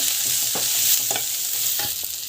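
Spices and asafoetida sizzle in a frying pan while a spoon stirs them in several distinct scraping strokes over a constant bright frying hiss.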